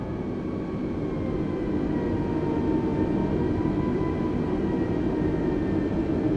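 A steady jet engine roar builds during an aircraft's takeoff roll in a flight simulator game, a constant broadband rumble with no talk over it.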